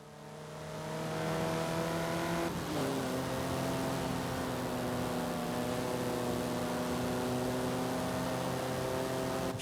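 A race car engine in a video game drones at high revs with a steady, buzzing whine, shifting pitch once, constant and fairly close.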